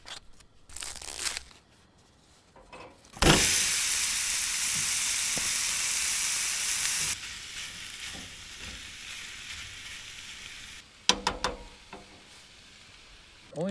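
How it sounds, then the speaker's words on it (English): Pork browning in a frying pan at a truck tent camp, a loud steady sizzle that starts abruptly, then settles to a quieter hiss, with clatter at the start and near the end. "gotta brown some pork"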